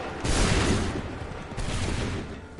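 Musket volleys in Assassin's Creed 3 crash out in two big rolling bursts of massed gunfire, about a second apart, loud and close with a ragged crackling tail.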